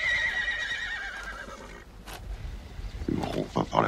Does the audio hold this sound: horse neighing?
yes